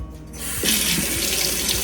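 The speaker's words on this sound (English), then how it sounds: "Give it a good rinse." Tap water starts gushing into a kitchen sink and colander to rinse sauerkraut, a close, steady rushing splash that swells after a quiet first half-second and continues to the end.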